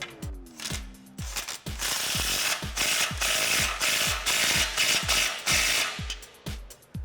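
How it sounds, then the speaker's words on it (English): A ratchet fitted with a 15mm socket clicks in fast, steady bursts while tightening an exhaust clamp on a Jeep Wrangler JK Magnaflow loop delete kit, loud and close with no talk. "take a 15mm socket and tighten that clamp up"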